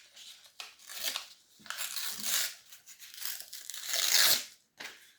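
A strip of paper is torn off by hand in several short rips and crinkles, close and crisp, with quiet pauses between pulls.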